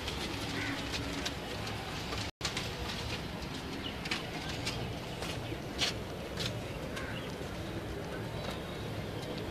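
Blue pigeons coo in a loft amid a dense, steady background wash, with soft repeated calls near at hand and a brief dropout midway.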